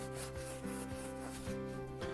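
A hand rubbing across a thick, leathery coriaceous leaf of a Cerrado plant near Pirenópolis, making a dry, scratchy rustle with several rhythmic strokes, close and steady with no talking.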